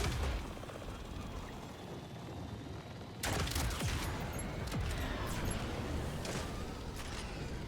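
Rapid gunfire in the video game Borderlands 4, with dense bursts of shots and impacts running throughout and growing busier after a brief lull, loud and close with a player's voice faintly under the action.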